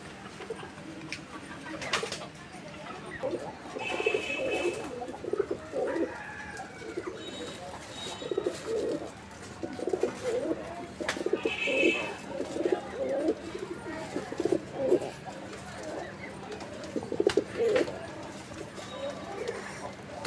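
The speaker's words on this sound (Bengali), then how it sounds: "তো এটা হচ্ছে আপনার মিলি কালার, মানে মিলিবার কালারের মধ্যে একটা সিঙ্গেল নর, যে নরটার ডাকটা দেখানোর উদ্দেশ্যে আমরা এই মাদিটা এখানে রাখছিলাম" A male Mili-colour pigeon coos in repeated low, throaty bursts at close range, with a faint steady hum and occasional rustling behind.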